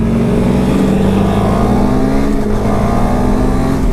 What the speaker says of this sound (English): If you're really going up through the gears, it's like gas, shift, gas, shift, gas, shift.